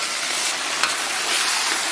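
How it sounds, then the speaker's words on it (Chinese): Beef steak stir-frying in a wok of chili oil made red with Pixian doubanjiang, giving a loud, steady, hissing sizzle throughout with no voices. "炒香以后啊，咱们把牛排给它下里边"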